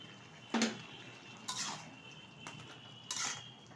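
A spoon scrapes and clinks against a pan while spinach curry is stirred, making four separate short bursts of metallic scraping spaced about a second apart, quiet and close.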